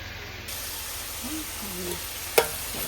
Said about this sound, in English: And meanwhile, I am already doing my fried rice.